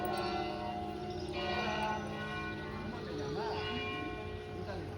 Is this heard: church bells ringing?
yes